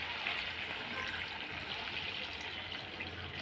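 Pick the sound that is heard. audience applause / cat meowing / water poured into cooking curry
water poured into cooking curry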